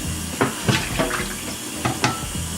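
Tap water running into a sink to wash rice for jollof rice, a steady loud stream close by with several sharp splashes and clinks from the rice and pot.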